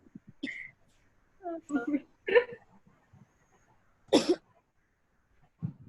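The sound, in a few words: cough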